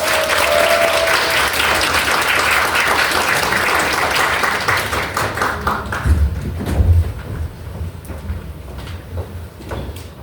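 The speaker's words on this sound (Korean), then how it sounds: "우리 이은규 변호사님을 힘찬 박수로 모시겠습니다." Hearty applause from a seated audience at a youth motivational lecture in a hall, welcoming a lawyer to the stage; steady dense clapping for about six seconds that thins into scattered claps and rustling.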